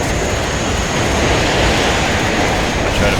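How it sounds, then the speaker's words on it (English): Helicopters in the real-time strategy game Warno under anti-aircraft fire produce a steady, dense, loud roar of rotor and engine noise mixed with battle din, continuous throughout without talk. "I try to fight the pivads with the helicopters."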